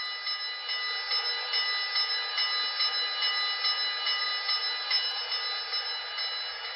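A BLI Southern Pacific GS-4 model steam locomotive with Paragon4 DCC sound rings its bell in a steady, continuous clang, bright and metallic, repeating evenly throughout with no voices.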